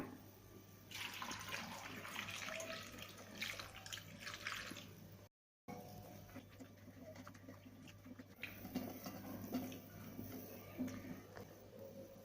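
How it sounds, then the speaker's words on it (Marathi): Bhokar fruits being washed under running water, a faint, steady splashing and patter of flowing water with a brief gap midway before the trickling resumes, close but low in level. "ही भोकरा आहेत ना पाण्याने स्वच्छ धुवून घ्यायचे आहेत"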